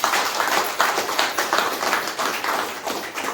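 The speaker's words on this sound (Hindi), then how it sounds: "चारों महान गुरुओं के लिए एक बार जोरदार ताली" Applause for four mentors at a Safe Shop gathering: a steady, dense patter of many hands clapping, swelling in slight rhythmic waves, fairly close and alone without talk.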